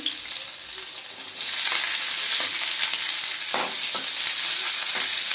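Chilli and garlic sauté on high gas for soya chunks manchurian, a dense, loud sizzle that jumps louder partway through, with scattered stirring scrapes, close up.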